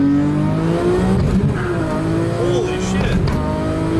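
A Nissan GT-R, likely an R32 or R34, revs hard through no-lift shifts in a loud, continuous engine roar with rising and dropping pitch, heard from inside the car while a voice exclaims over it.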